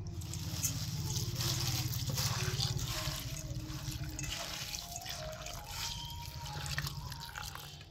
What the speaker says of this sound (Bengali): এই চিড়েটাকে ভালো করে ধুয়ে পরিষ্কার করে নিতে হবে।